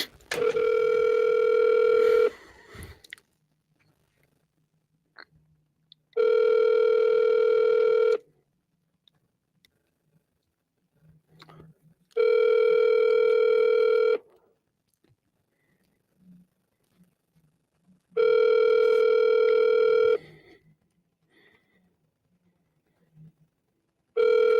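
A telephone rings four times in evenly spaced bursts, each tone lasting about two seconds and separated by a few seconds of near-silence, before the line reaches a realtor's voicemail.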